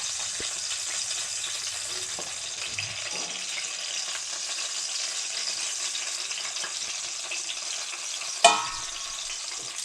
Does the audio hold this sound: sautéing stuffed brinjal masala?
yes